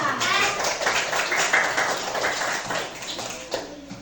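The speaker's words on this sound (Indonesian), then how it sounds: "Oke, tepuk tangan." Classroom of students applauding a group of classmates, loud dense clapping close by with voices mixed in, sustained for several seconds before tapering slightly.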